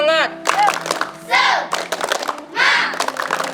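Schoolchildren from an Indonesian elementary school on a museum visit chant and clap in a rhythmic spirit-clap routine, loud bursts of group voices and claps repeating in waves close by.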